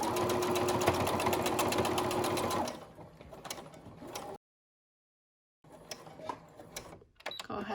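Sewing machine stitching fabric for dog shoes, a fast steady mechanical chatter for about three seconds, then quieter intermittent clicks and handling noises, a brief silence, and more faint fumbling and clicks.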